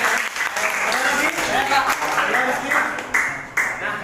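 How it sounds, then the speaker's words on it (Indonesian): Applause from a classroom audience during an Indonesian history lesson, a steady dense wash of clapping lasting about four seconds with faint voices mixed in. "Tepuk tangan untuk"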